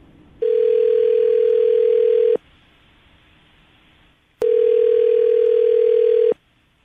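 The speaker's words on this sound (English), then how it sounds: "I'm going to dial the phone number right now." A telephone line sounds as a call is placed: two long, steady, loud tone bursts of about two seconds each, separated by a quiet gap of similar length.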